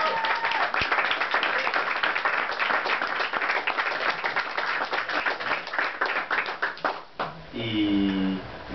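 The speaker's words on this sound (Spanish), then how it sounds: "Pueden aplaudirlo si quieren." Audience applause at a poetry book launch, a dense patter of hand claps that thins out and stops, followed by a person beginning to speak.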